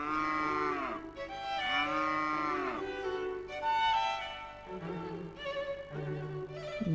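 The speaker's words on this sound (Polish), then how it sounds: "Tu jest krowa." A cow moos repeatedly, several long, deep calls one after another, close and loud with short pauses between them and no talking.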